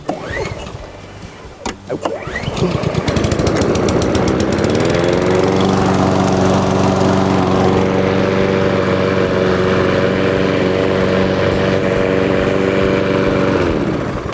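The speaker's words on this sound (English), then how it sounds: "This is the Cobra RM514SPC rotary mower with a rear roller, collector, 4-speed" A Cobra RM514SPC rotary lawn mower with rear roller, collector and 4-speed drive is pull-started at close range, catches after a couple of seconds and runs at a loud, steady drone until it cuts off near the end.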